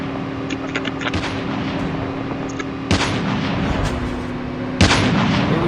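Vehicles fire heavy weapons in a video game, with three loud, sharp booms spaced a couple of seconds apart over a steady engine hum.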